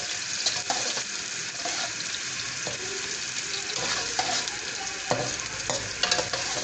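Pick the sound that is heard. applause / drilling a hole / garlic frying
garlic frying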